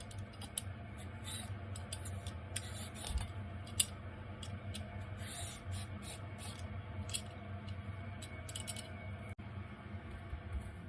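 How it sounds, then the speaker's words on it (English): A carrot is peeled with quick, scraping strokes in a kitchen, a series of soft rasping swipes and small clicks at an uneven rhythm, close but quiet, without talking. "Next, peel the carrot."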